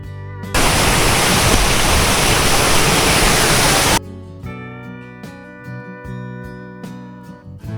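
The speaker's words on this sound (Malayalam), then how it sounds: "ഇവിടെ ഒരു വാട്ടർഫോൾസ് ഉണ്ട്. പക്ഷേ ഈ ചൂട് സമയത്തുകൊണ്ട് വെള്ളം അധികം ഇല്ല." Waterfall at Düden Upper Park in Antalya, running low on water: a steady, dense rushing wash for a few seconds that cuts off abruptly into a quieter background with tonal sounds.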